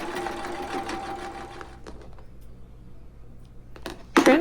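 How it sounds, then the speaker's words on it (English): A sewing machine stitches the middle seam of a fleece hat in a rapid, steady whir that runs close up, pauses briefly, then gives a short final burst. "So now we're going to stitch down that middle seam to finish off our hat."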